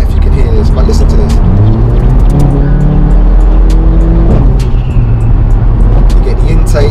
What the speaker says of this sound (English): You get the intake when you let off the throttle, you get the pops when it changes gear.